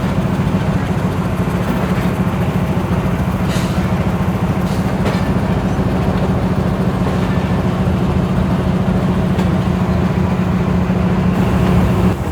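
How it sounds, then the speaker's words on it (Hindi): A train locomotive engine runs continuously as the Karachi Express pulls through a yard, with a loud, steady diesel drone and rumble and no talk. "ये बड़ी प्यारी आवाज़ है इस इंजन की।"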